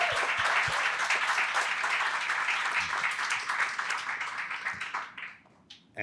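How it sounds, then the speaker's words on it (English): Audience applause for panelists at a Berkeley corporate and climate summit, a loud, dense round of clapping that holds steady for about five seconds before fading out abruptly. "Please join me in a round of applause for our panelists."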